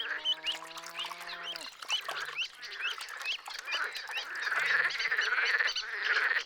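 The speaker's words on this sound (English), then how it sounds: "On warmer days, the edible frogs work themselves into an audible frenzy." Edible frogs calling in a frenzy at a Serbian wetland, a dense chorus of loud, rapid croaks and quacking trills overlapping continuously, with a nasal bleating call at the start.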